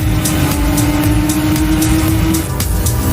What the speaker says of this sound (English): And they slipstream right past him!